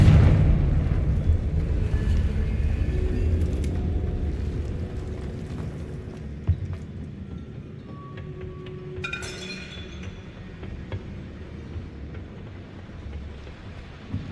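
A Confringo spell explosion in Hogwarts Legacy starts as a loud, rumbling blast that slowly fades over several seconds. Scattered glassy clinks and crackling debris follow, with a brighter cluster of tinkling shards around the middle.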